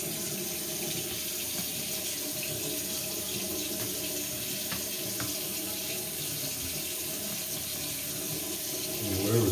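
Tap water runs steadily into a sink to rinse out a Clorox disinfecting wipe, a constant close splashing flow that swells louder at the very end.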